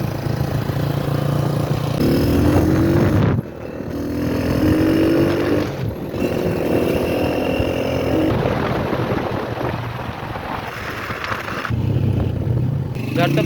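A motorbike ridden home through Lahore streets drones loudly and steadily, its engine pitch rising and falling as it speeds up and slows, with a couple of brief drops and passing traffic noise around it.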